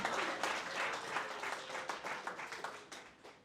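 Church congregation applauding during a sermon, a dense sustained burst of many hands clapping that stays loud and steady, then thins and fades slightly toward the end.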